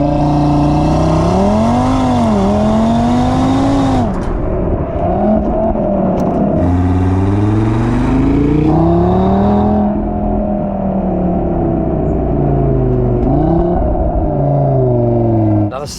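A 2020 Audi TT RS engine revs hard and climbs to a high warbling pitch, holding near the top before dropping and rising again, loud and close.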